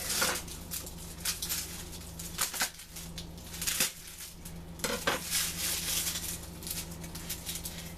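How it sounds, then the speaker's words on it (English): Garlic bulb broken apart into cloves by hand in a kitchen, with repeated crackling snaps and papery rustles in irregular bursts, close and fairly loud, with no talk. "Now I'm going to break up some garlic."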